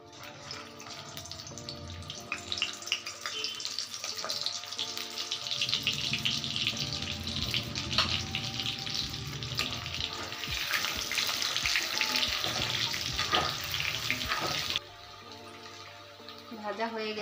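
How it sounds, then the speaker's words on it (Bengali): Potatoes, precooked with salt and turmeric, frying in ghee and oil in a pan for chicken biryani: a steady, faint sizzle and hiss running throughout, with background music and a voice talking over it. "এগুলোকে আমি ভেজে নেব এই তেলে।"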